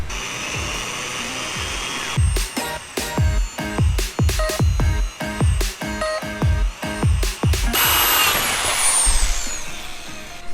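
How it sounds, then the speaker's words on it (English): A power drill whirs in a string of short, repeated bursts while drilling out a rivet on an Infiniti G35, then runs continuously at a higher pitch near the end, loud and close. "Let's start drilling."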